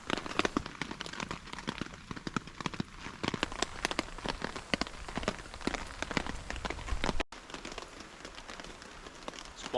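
Steady rain patters on a tarp sheltering a solo camp in Cobb Valley, a dense rush of close drops. It runs unbroken for most of the stretch, cuts out abruptly for a moment, then resumes.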